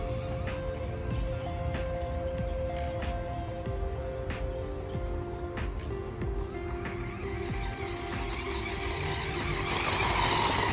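A Traxxas Slash 4x4 Platinum RC truck with Castle Sidewinder 8 6s electronics drives nearby, its electric motor giving a steady whirring whine with brief squeals and ticks, continuous throughout and slightly louder toward the end.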